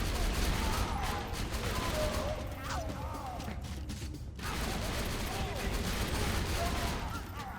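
Rapid gunfire from the Borderlands 2 video game, a dense, continuous burst of shots with mechanical clatter that carries through the whole stretch, loud and busy, with a short dip midway.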